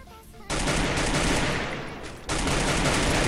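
A Free Fire gunfight erupts as sustained, loud automatic gunfire that roars continuously for a few seconds, with a fresh heavy burst cutting in near the end.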